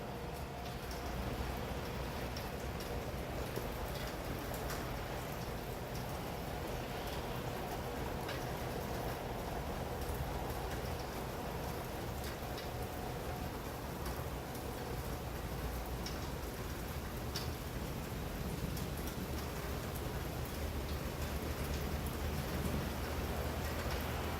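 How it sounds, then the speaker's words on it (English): Rain pours steadily during a severe thunderstorm in Stockbridge, Henry County, Georgia, a dense, even hiss that continues unbroken throughout with no voices. "Okay, the rain is it picking up now?"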